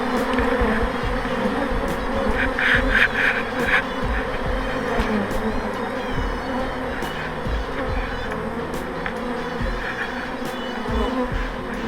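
A swarm of bees buzzing steadily and loudly around a hive in March, a dense continuous hum with individual insects passing close, with no talking.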